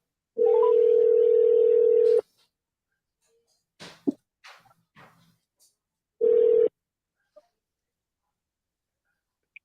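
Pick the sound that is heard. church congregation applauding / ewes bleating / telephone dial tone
telephone dial tone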